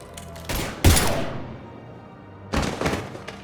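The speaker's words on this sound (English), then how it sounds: "Now open fire!" Mass Effect 3 gunfire in a tense standoff: a couple of loud booming shots with long decaying echoes, then a second burst of rapid reports, close and heavy.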